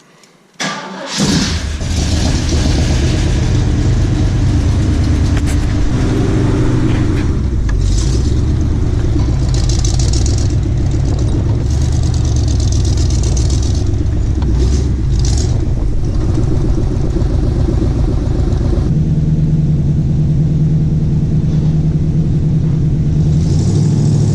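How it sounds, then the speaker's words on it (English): A Jeep CJ engine cold-starts with a quick crank, catches, and settles into a loud, steady, rumbling idle that continues alone. "So let's give her a cold start."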